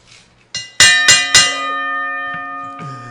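Bell struck several times in quick succession, three loud metallic clangs with a long ringing tone that sustains and slowly fades, followed by a softer tap near the end.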